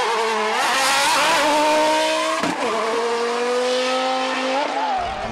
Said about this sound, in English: you accelerate into the corner, you turn the opposite direction, and then you flick the car into the corner.